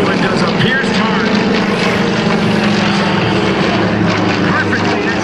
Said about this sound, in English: Watch for Paul now to roll a half a roll for the smoke to come on as they set up to make a heart in the sky